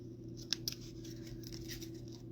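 Scissors trim paper for a handmade card, giving a few quiet, crisp snips close by over a low steady background hum.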